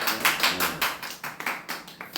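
A youth group audience in a church service claps, a short burst of sharp, close handclaps lasting a couple of seconds with no voices.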